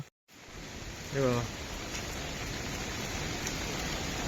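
Monsoon rain falls around a village house as a steady, even hiss, with a short voice-like tonal sound early on and no other break.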